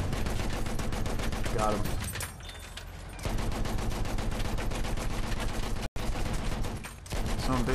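Battlefield 1 gunfire rattles in dense, rapid automatic bursts, loud and nearly continuous, with brief lulls and a player talking over the shooting.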